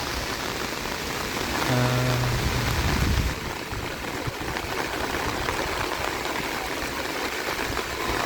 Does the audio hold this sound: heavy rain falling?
yes